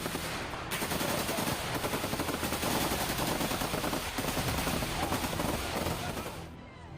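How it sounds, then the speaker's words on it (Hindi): Sustained rapid gunfire from Israeli forces in Gaza, dense and continuous with overlapping bursts and echoes, fairly loud throughout before cutting off near the end. "इजराइल की सेना ने उन्हें रोकने के लिए फायरिंग की। गोलियां चलने की आवाज कैमरे में रिकॉर्ड हुई।"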